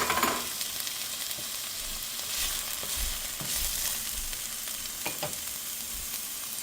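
Garlic and carrot sizzle and fry in a pan for a shrimp stew, a steady crackling hiss close by with a few soft stirring clatters and utensil taps, no voices.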